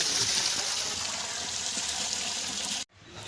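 Water gushes steadily under strong pressure from a 2-inch pipe fed by an 1100W BLDC solar-powered motor pump drawing from a 45-foot depth on a farm, a loud continuous rush that cuts off abruptly near the end.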